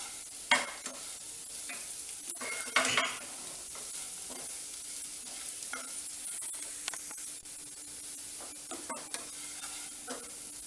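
Baby potatoes roast and sizzle in a pan with ground spice powder, steady frying hiss broken by occasional scraping stirs, close and fairly quiet, with no voices.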